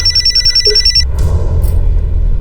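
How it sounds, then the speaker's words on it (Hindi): A telephone bell rings loudly and up close for about a second, then stops and gives way to low room noise and a brief clatter, in a TV crime drama scene. "सलीम जी फोन लीजिए।"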